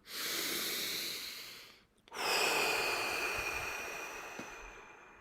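A full, steady exhalation during a guided breathing exercise: a long airy breath out, a brief pause of silence, then another strong hissing breath that slowly fades, close and clear with no talking.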